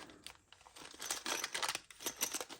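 Plastic bags from a model-kit magazine issue crinkle and tear as they are cut open, an uneven run of crisp rustling bursts that grows busier toward the end, close and fairly quiet.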